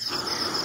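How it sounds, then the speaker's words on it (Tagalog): Crickets chirp at night in a remote rural area between Pangasinan and Nueva Ecija, far from town, making a steady, high, continuous trill that fills the short stretch on its own. "Rinig lang po natin ay mga kuliglig"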